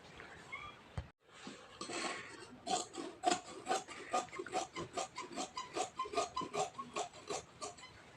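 Scissors snip through fabric while a baby skirt is cut out, giving a steady run of close, crisp rhythmic cuts after a short pause.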